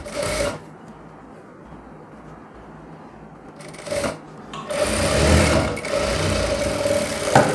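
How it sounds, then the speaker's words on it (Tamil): A sewing machine runs a quarter-inch seam on a folded blouse piece, its steady whirring broken by short pauses and restarting louder toward the end, close and alone. "ஒரு 1/4 இன்ச் தையல் போட்டுக்கலாம்."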